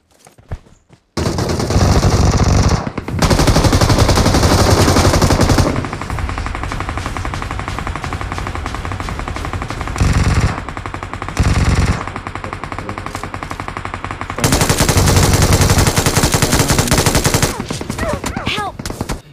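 Battlegrounds Mobile India gameplay fills with loud, sustained bursts of automatic gunfire, rapid shots coming in long stretches with brief lulls between volleys and a few single cracks near the end.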